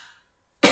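A single sharp cough bursts out close to the microphone after a brief pause, following a faint trailing breath.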